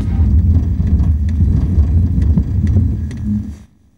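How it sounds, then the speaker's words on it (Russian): A Subaru Forester with a 2-litre engine and manual gearbox brakes hard on icy road with ABS working, giving a steady low engine and tyre rumble with faint rapid clicks. It ends abruptly into near silence. "А теперь экстренное торможение."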